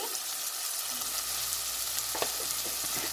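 Egg masala spices and curry powder fry in a pan with a steady, close sizzle, and faint scraping stir sounds run underneath.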